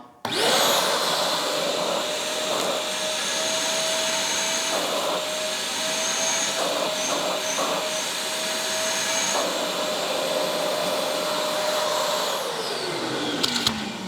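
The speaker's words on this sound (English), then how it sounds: "I'm going to just show you the suction power with the crevice tool." A Vacmaster Multi 20 wet and dry vacuum with a crevice tool fitted and set to position 1 roars close and loud in a steady, strong suction whine, then winds down near the end.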